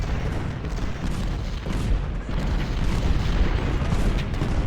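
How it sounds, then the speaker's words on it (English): Booming cannon and artillery fire from the Civil War strategy game Ultimate General, Battle of Prairie Grove: a dense, continuous rumble of overlapping low blasts and gunfire, loud and steady throughout with no clear pauses. "There's a risk that I leave Mater's brigade out here and just gets absolutely pounded by cannons"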